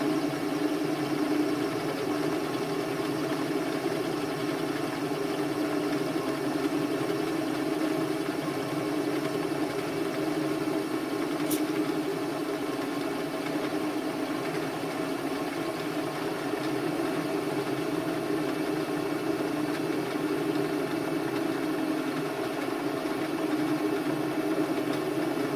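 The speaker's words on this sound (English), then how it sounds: "A little more spindle speed, same depth of cut." Lathe spindle turning at moderate speed while an ESP32-driven electronic leadscrew feeds the cutting tool, a steady continuous mechanical hum with faint whine, constant level throughout with one brief sharp tick midway.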